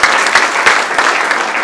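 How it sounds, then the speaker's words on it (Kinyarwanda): Church congregation applauding loudly and continuously at a pastor's ordination service, a dense wash of many hands clapping close by, with no talk over it. "Amashyi menshi cyane."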